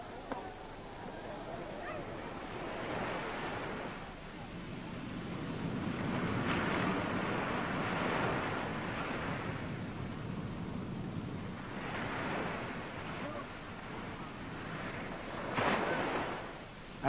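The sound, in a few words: ocean waves breaking on a Bali shore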